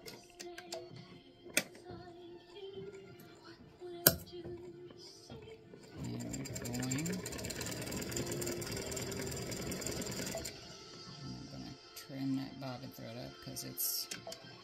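A home embroidery machine stitches out an edge-to-edge daisy and hummingbird design, a steady dense mechanical chatter starting partway through and running for several seconds, with a few isolated clicks and handling taps before it and brief pauses after.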